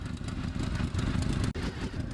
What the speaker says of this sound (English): The Yamaha VMAX.